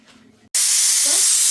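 A pressure cooker on the stove lets off a sudden loud blast of steam while cooking mutton curry, a sharp hiss that cuts in after a quiet moment and holds steady and close to the end.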